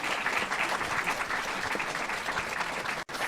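Sustained applause from an audience at a school music festival, a dense steady wash of clapping that fills the whole stretch before a brief cutoff near the end.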